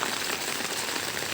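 Steady rain falls in Dharmapuri, a dense, even hiss of drops striking surfaces close by, continuous and unbroken with no voices.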